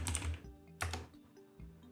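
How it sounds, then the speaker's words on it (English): Keys on a computer keyboard clatter in quick, close bursts of typing with a brief pause between them. "So if we start typing here,"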